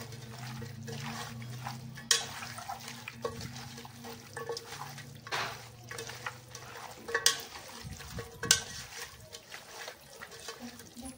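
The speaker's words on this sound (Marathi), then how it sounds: "चांगलं मिक्स करून घेऊ।" A spoon stirs chicken gravy mixed with lemon juice in a pan, giving quiet scrapes, soft clinks and wet squelches at uneven intervals over a low background hum.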